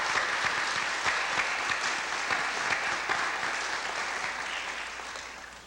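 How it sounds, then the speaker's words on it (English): Steady, sustained applause from an audience at a community commemorative event in Chatham, a dense patter of clapping hands that slowly fades slightly toward the end. "everyone on the committee deserves another round of applause from the people of Chatham"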